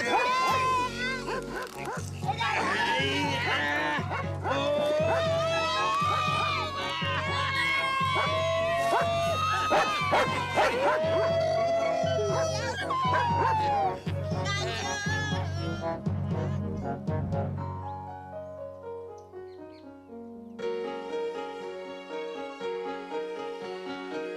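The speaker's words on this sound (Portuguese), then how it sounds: "Esse é o cachorro!" A dog barks repeatedly and yips over busy music and excited voices in a dubbed cartoon scene, and a melodic musical passage follows.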